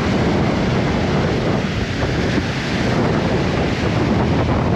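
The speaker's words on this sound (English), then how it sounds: "That's very windy, you'll probably hear that on the sound." Strong onshore wind, blowing around force 4 to 5, buffets the microphone on a Dorset beach at Southbourne, a steady loud roar of wind noise with surf underneath and no break throughout.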